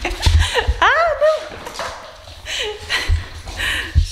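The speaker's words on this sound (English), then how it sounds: "Go see the dogs." Dogs bark, yip and whimper close by indoors, excited and overlapping in irregular bursts, with someone speaking in between.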